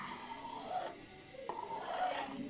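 Chakwal halwa roasting in a pan until the milk dries off, a steady rasping scrape of a spoon against the pan in long repeated strokes, moderately faint with a soft sizzle beneath and no voices.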